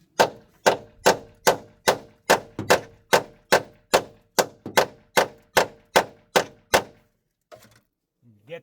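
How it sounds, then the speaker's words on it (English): Hammer blows drive an impact extension onto a car strut during a strut replacement: about fourteen loud, evenly paced metallic strikes close to the microphone, followed by a pause and a few faint scrapes. "So this extension will be good to hit with a hammer."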